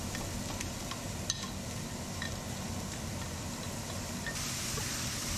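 Serrano peppers and white onion cook in peanut oil, making a soft, continuous sizzle with occasional faint stirring ticks, fairly quiet and without speech.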